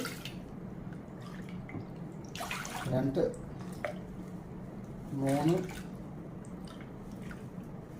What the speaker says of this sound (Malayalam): നല്ല ശുദ്ധമായ വെള്ളം തന്നെ ചേർത്ത് കൊടുക്കുക